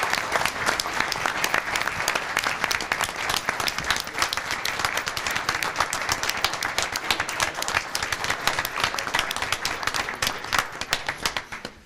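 Audience at a city council meeting applauds neighbors, a dense, steady round of clapping that holds at full strength for about twelve seconds and thins slightly at the very end, with no talking over it.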